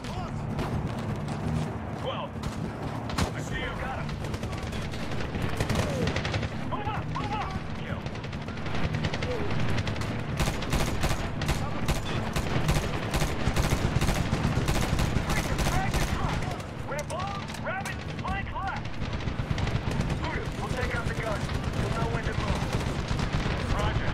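Machine gun fire and explosions in the video game Medal of Honor 2010: dense, sustained bursts of automatic gunfire with heavy booms underneath, while a player talks over the battle.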